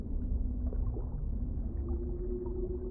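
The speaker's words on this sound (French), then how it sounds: "Leurs chants traversent l'eau et viennent te toucher au plus profond de toi" Deep whale song of long, gently sliding tones over a constant low underwater rumble, with faint bubbling textures, steady and unhurried.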